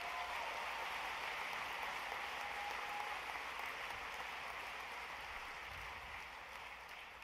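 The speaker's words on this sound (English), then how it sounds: "What did you guys clap about?" An audience claps at the Rooster Teeth RTX 2015 convention panel, a steady, dense wash of applause that holds throughout, heard from a distance and fairly faint.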